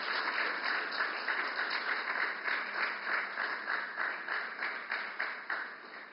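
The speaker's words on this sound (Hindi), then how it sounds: "तालियां की गूंज आती रहे।" An audience at a ceremony in Mumbai applauds steadily, the dense clapping continuing throughout at a moderate distance.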